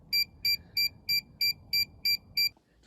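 A PerfectFlite Minitimer 4 rocket timer sounds eight sharp, evenly spaced electronic beeps during a bench test, loud and close against quiet room tone before falling silent.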